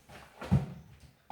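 A kitchen drawer pulled open during a declutter, one short wooden rumble and knock near the microphone, with a faint click at the end and no talking.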